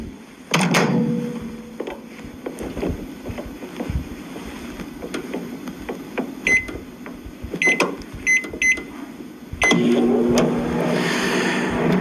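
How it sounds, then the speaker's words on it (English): Buttons beep as a microwave is set, then its steady low hum runs on after the door clicks shut. "We'll put it in the microwave for 1 minute."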